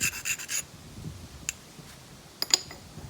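Short scraping rasps of a coarse abrader grinding the edge of a knapped stone point, a quick burst of strokes followed by a few isolated scratches, close and fairly quiet.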